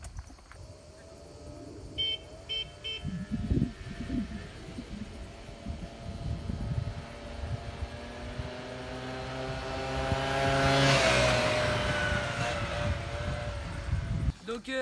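Peugeot Zip and another Peugeot scooter racing: small two-stroke engines buzzing and whining as they rev up, the pitch rising and swelling loud near the middle before fading, with brief voices and handling noise early on.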